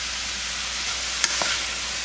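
Radish pieces sizzle in a heated frying pan with water and a half spoon of sea salt, a steady close hiss with a brief clink of stirring partway through.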